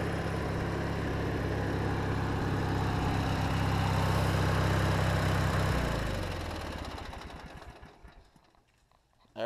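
An MTD riding mower engine idles with a steady, even chug, then shuts off and winds down into quiet.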